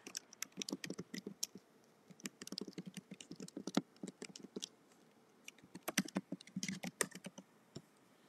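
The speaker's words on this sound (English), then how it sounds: "I'm going to type it in." Bursts of rapid clicking keystrokes on a computer keyboard, with brief pauses between runs of typing, close and clear.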